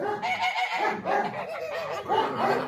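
Several Kholmogory geese honk and cackle in overlapping, harsh calls, fairly close and loud, continuing throughout with no talking.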